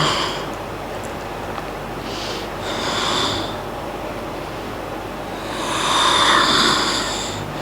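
Slow, deliberate breathing during a yoga neck stretch, with a few long airy exhales and inhales through the nose spaced several seconds apart, close and clearly audible over a low background hum.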